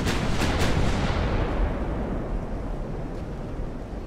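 Five-inch naval guns on an 1890s warship in the naval game Ultimate Admiral: Dreadnoughts fire a loud booming blast that rolls into a long, fading rumble, with a few sharp cracks early on.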